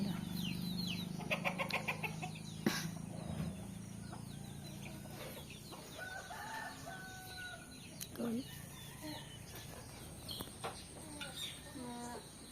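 Chickens clucking on a road near a home, with scattered clucks and short calls at mid distance over steady outdoor ambience, with other birds and a faint voice in the background.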